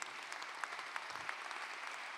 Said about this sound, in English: So let's applaud Dr. Stephen,